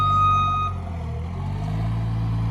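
Steady reversing beeps sound from a construction machine on a site where concrete is being compacted for a large metal shop building, over a loud low engine rumble.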